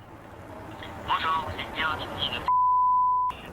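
Outdoors, a phone call to a dentist's office sounds one steady electronic telephone tone lasting under a second, near and clear, after a stretch of muffled outdoor background noise.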